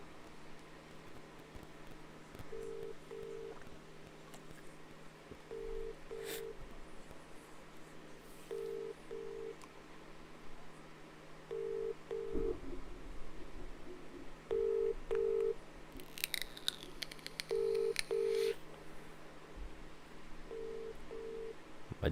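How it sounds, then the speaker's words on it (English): A phone line plays paired keypad dialing tones in a steady, evenly spaced rhythm over a faint hum, quiet and close, with a brief rustle partway through. "My dad just called me, just calling him back."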